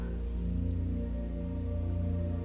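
Soft rain falling and drops dripping onto wet park grass, a faint, steady patter beneath a low continuous hum, with no voices.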